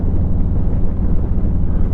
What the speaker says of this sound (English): Good thing it's windy.